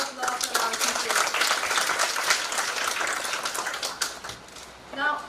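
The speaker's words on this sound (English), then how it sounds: "Ladies and gentlemen, once again, a big round of applause for our teachers." A ceremony audience breaks into applause, a dense, loud burst of clapping that continues for several seconds before tapering off, with a voice starting briefly near the end.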